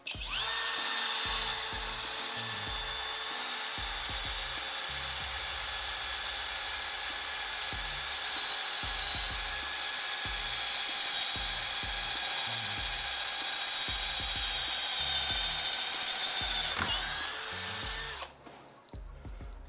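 A FortG brushless drill-driver with a worn bit whines continuously at high speed while boring into wood, loud and close, for a long stretch before abruptly stopping.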